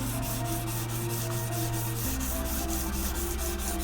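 A Delman-brand golsem blade rubbed flat back and forth across a sandpaper block, giving a steady, close, continuous abrasive scraping with regular strokes and no voices.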